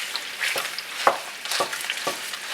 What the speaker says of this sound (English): First thing is we're going to get our sausage cooking.